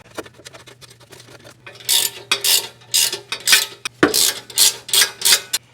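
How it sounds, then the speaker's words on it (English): Exhaust bolts threaded by hand into place under a Nissan Versa, heard as a series of close, rhythmic metallic ratcheting clicks in short bursts with a faint steady hum beneath. "I'm just going to loosely thread these bolts into place to get it lined up."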